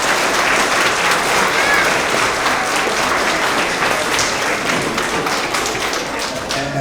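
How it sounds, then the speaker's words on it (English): Audience applause fills a school end-of-year award assembly for kindergarten through second grade, a steady dense wash of clapping held at even loudness throughout, with no speech over it. "Let's give them a big round of applause."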